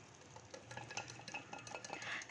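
A spoon scrapes and taps against a pot as a sprouted moong dal kurma is stirred, quiet, irregular clinks and soft swishes up close.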